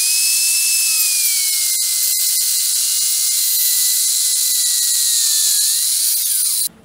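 A power saw makes a long angle cut in timber during a covered bridge build. Its steady, loud, high-pitched whine drifts slightly in pitch before cutting off abruptly at the end.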